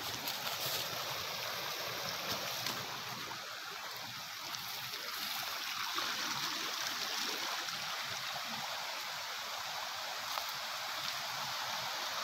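Small mountain stream called Rungdung, a tributary above the Rangeet river, flowing steadily with a constant broadband wash of water, close and even throughout, no voices.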